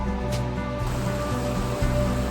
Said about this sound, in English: More running water.